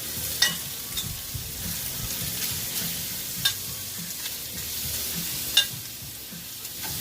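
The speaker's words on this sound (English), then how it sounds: "what's cooking on the griddle without bacon? Need bacon. Plenty of bacon." Bacon frying on a Blackstone griddle, a steady close sizzle with a few sharp pops and spatters over roughly seven seconds, no talking.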